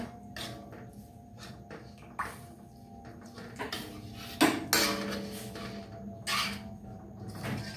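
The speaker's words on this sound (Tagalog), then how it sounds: "Durugin lang natin ng yung munggo para lumapot yung ating sabaw" Mung beans being mashed in a metal cooking pot for soup, with repeated scraping and clanking of a utensil against the pot, irregular knocks and scrapes at close range, with no talking.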